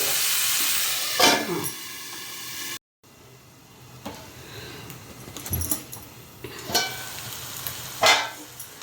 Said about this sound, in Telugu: ఇది కాస్త సిమ్లో పెట్టి కాస్త మగ్గించాలండి.